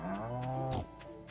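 A single cow in the video game Stardew Valley lets out a loud, close moo that holds for most of a second, then cuts off into quieter background.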